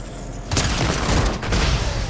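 A pistol firing in Fortnite: a burst of sharp, loud shots in quick succession, close and dense, with no talk.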